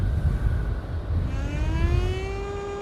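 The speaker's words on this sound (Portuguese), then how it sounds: "Uma sirene." A crank horn in the video game Syberia winds up into a rising siren wail that climbs in pitch and holds steady, heard alone at moderate volume.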